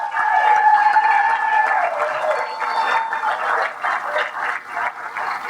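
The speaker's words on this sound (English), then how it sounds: "let's give a final round of applause to all the contestants" Applause from a county fair queen pageant audience honoring the contestants, a steady wash of clapping that rises at once, holds for several seconds and gradually thins, with a tonal hum lingering early on.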